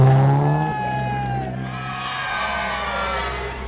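A large crowd cheers and whoops along the roads on a cold, foggy morning as cars are flagged off in Assam for the 2004 ASEAN-India Car Rally, with a sustained tonal vehicle sound under the broad crowd noise.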